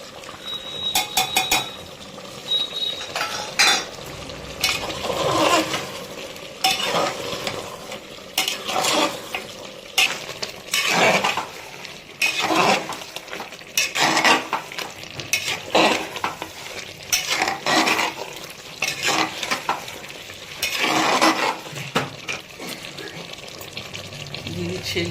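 Whole spices fry in oil for a Bihari-style mutton curry while a spatula stirs and scrapes the pot in repeated, uneven strokes over a low sizzle, close and fairly loud, with a voice talking intermittently.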